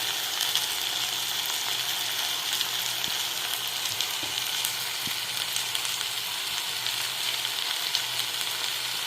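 Dried anchovies frying in a pan with onion and tomato give off a steady, dense sizzle with faint stirring clicks, close and continuous throughout.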